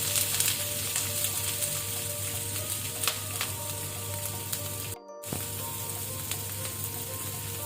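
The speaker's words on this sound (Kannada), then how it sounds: "ಮೊದಲಿಗೆ ನಾವು ಈರುಳ್ಳಿ ಹಾಕೊಳ್ಳುವ." Steady, dense sizzle of onions frying in a hot pan for Udupi chicken sukka, loud and close, with occasional crackles and a brief gap midway, no talking.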